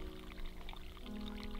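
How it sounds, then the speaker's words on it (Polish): Water drips and runs down near a photovoltaic installation, a steady close hiss of trickling and streaming water with no pauses. "To tutaj tak szumi? Tak! To ta woda tutaj tak ścieka"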